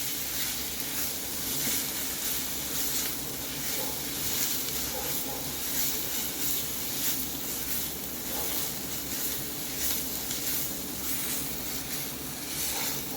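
Liver pieces (kaleji) sautéing in a pan for a Saraswat-style kaleji sukka, a steady, close hissing sizzle with a soft crackle running unbroken throughout, no voices.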